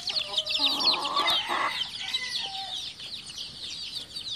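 Hens, a rooster and young chicks on a farm keep up a dense chorus of shrill peeps, with a burst of louder, throatier clucking near the start before it settles into continuous chirping.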